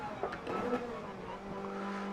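A GT500 Toyota Supra braking hard in Gran Turismo 7 on the Nürburgring, with a steady engine drone and faint tyre scrub as it slows, fairly loud and continuous throughout.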